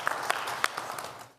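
A church congregation applauds briefly, a short burst of scattered claps that fades out within about a second.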